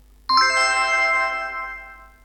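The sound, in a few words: app notification beep for a table reservation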